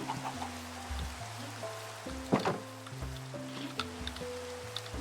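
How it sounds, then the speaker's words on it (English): Rain in Minecraft, a soft, steady patter of drops under low sustained musical tones, faint and continuous, with a brief louder splash-like burst midway. "Get yourself out of the rain."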